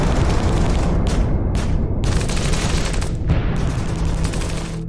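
Sustained automatic weapons fire, a loud dense fusillade of rapid bursts that rolls on without pause for the whole stretch, with booming low-end rumble and brief gaps between volleys.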